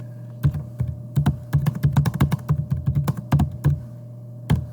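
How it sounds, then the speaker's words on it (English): Keys clatter on a computer keyboard in a close, quick, irregular burst of taps with brief pauses, ending in one last isolated keystroke, and no voices over it. "you can just come up here and type something in"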